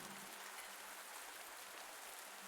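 Steady rainfall in the farming game Pumpkin Days hisses softly and evenly, a faint continuous wash with a low droning tone underneath and no voices.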